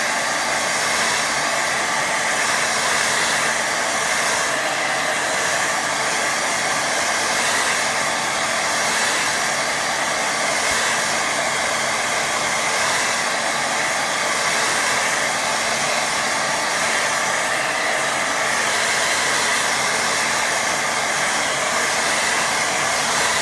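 A hair dryer drying a watercolour painting blows with a loud, unbroken whirring hiss that continues steadily throughout, with no voices over it.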